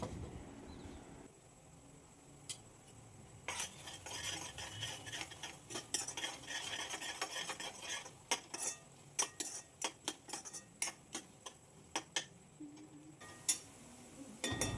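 A spoon stirs spices (chili, turmeric, coriander-cumin, salt) into paneer tikka masala gravy in a metal pan, with repeated scraping and clinking strokes, soft sizzling underneath, close and fairly quiet.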